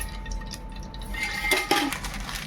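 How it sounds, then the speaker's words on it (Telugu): Oil poured into a heated pressure cooker for village-style country chicken curry: a soft liquid trickle and light metallic clinks of the cooker and pot, close and unhurried, with no voices. "ఆయిల్ పోసుకుందాం."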